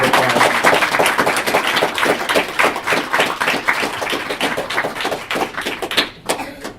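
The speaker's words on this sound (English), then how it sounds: "give them a big round of applause" Audience applause at an engineering awards ceremony, a dense sustained burst of many hands clapping together, loud and close, tapering off near the end.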